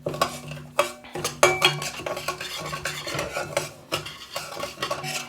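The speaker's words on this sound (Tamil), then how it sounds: "இப்போ இந்த போட்ட நெய்யில் இந்த சவ்வரிசியை நல்லா நெருப்பை குறைச்சி விட்டு ஒரு 3 நிமிஷம் வறுக்கலாம்." A stainless steel spoon stirs and scrapes sago roasting in ghee in a pan over a low flame. Irregular metallic clinks and scraping strokes sound up close, with no voices.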